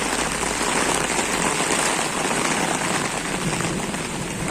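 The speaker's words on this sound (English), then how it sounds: "and how it's raining" Heavy rain pours onto an umbrella on a Moscow street, a dense, constant hiss and patter close overhead with no break.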